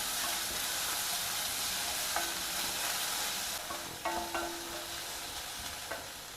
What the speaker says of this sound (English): now here I have 1 onion which I have chopped fine. Stir fry this also.